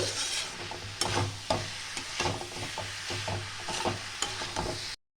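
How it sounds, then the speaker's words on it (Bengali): Cabbage and potato stir-fried in a pan for a vegetarian Bengali cabbage dish, with a steady sizzle, spatula scrapes and clinks repeating throughout, close and fairly quiet. "বাঁধাকপি আর আলুটা এটা আরেকবারও কষিয়ে নিতে হবে"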